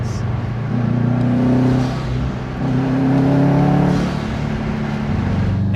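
An STI-swapped 2004 Subaru Forester with a six-speed manual revs and accelerates hard, a loud steady engine drone rising through two strong pulls with a brief dip between, close and without talk.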